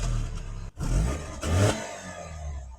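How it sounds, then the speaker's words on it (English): A BMW E46 318i with a 2-litre petrol engine and stock exhaust, close by, gives two quick revs, each a short rising roar that falls back to a low rumbling idle, with no talking. "It's got a totally stock exhaust, which sounds like this."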